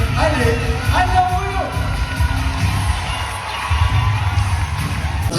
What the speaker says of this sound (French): un tonnerre d'applaudissements à Marion Navarro, Miss Franche-Comté 2022